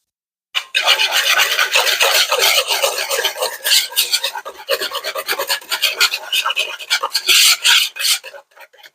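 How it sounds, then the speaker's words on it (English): A close, harsh scraping rasp of a whisk beating zucchini bread batter in a bowl, continuous and rapid with uneven rhythmic strokes for several seconds. "All right, let's whisk that up"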